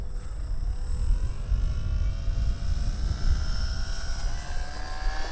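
A radio-controlled model airplane flying at a field, its propeller engine droning steadily at middle distance with a rising and falling whine over low wind rumble.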